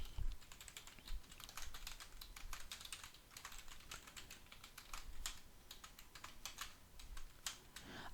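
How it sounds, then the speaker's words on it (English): Someone types steadily on a computer keyboard, the rapid key clicks sounding close and clear against a quiet room, with no talking. "so now I can type it in"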